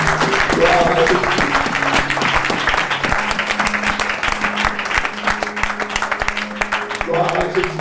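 Church congregation applauding and cheering in praise during a lively worship service, dense sustained clapping throughout with voices mixed in.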